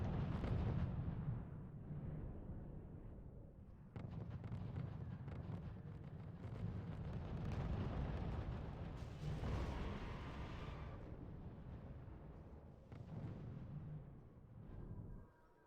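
Booming mortar artillery fire from the strategy game RUSE, deep, rumbling blasts rolling over a low, steady battlefield roar, fairly quiet and distant with no voices.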